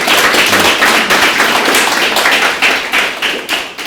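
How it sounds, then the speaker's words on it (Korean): Loud, close clapping from a lecture audience, many hands beating together in a quick, slightly rhythmic run that holds steady for several seconds. "박수 좀 치세요."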